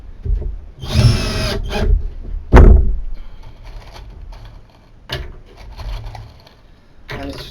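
Power drill driving screws into 19 mm wood boards for a freestanding planter: a couple of short high whirring bursts and a heavy knock, then quieter handling noises close by.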